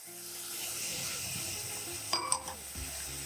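Carrots and other vegetables for fried rice sizzle steadily in a pan, with a couple of sharp spatula scrapes and stirs near the end.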